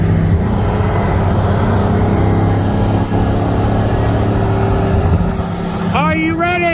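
A 2018 Mercedes C63 S AMG with bolt-on modifications cruising in third gear, a loud steady engine drone and road rumble heard from the cabin, with a voice briefly at the end.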